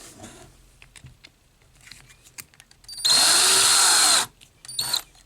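A power drill whirs at high speed for about a second, loud and close, with quieter handling clicks and taps before and after.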